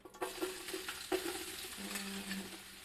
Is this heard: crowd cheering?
no